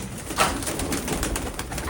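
Pigeons, including a fantail, coo softly amid a busy outdoor hum, with a brief brighter call near the start and a steady low murmur throughout.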